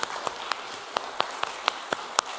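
Clapping from a church worship congregation, a roughly steady rhythm of distinct claps about every quarter second over a soft background of scattered applause.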